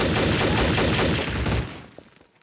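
Rapid gunfire in the video game Trouble in Terrorist Town, a loud sustained burst of shots that cuts off and fades into near silence after about a second and a half.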